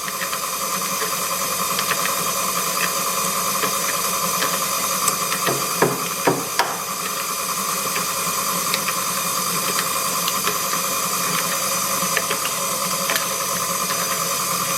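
Electric mixer beating cake batter for baked Alaska, a continuous steady whirring drone with occasional clinks of the beaters against the bowl, no talking.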